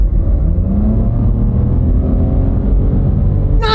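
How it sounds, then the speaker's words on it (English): A car accelerates at full throttle from about 40 mph, a loud, steady engine drone that holds throughout, close to the microphone, with a short higher sweep at the very end. "We'll take her down to 40, then we'll floor it."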